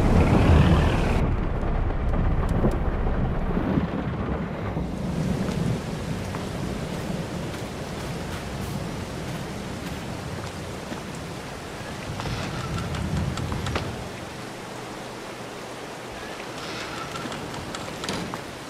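Heavy rain and rolling thunder fill a stormy scene in the farming video game Farming Simulator 22, a loud continuous downpour that dips briefly partway through, with rumbles under the hiss.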